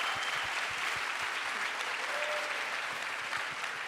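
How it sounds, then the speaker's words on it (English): An audience claps in a steady burst of applause at an awards announcement event, dense and sustained for a few seconds with no voices over it. "Give yourselves a big round of applause."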